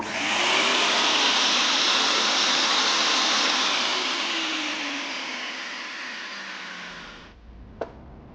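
A desktop mini vacuum forming machine pulls vacuum with a loud, steady broadband whoosh that holds for about seven seconds, fades slightly, then cuts off, followed by a single sharp click.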